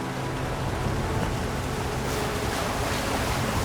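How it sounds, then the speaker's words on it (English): Steady surf washing onto a beach in a video game, a continuous loud wash of breaking waves with a windy hiss and no pauses. "And with that, we run along the beach"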